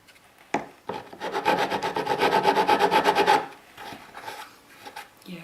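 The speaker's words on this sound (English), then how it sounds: "Let's see if I can just scrape it up with a file." A metal file scrapes at a Fane Sovereign 12-250TC speaker in a close, loud run of quick rhythmic rasping strokes lasting about three seconds, followed by a few lighter scrapes.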